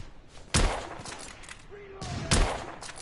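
Gunfire in The Order: 1886 shooter game: two heavy, close blasts about two seconds apart over a busy battle background, with shouting voices between them.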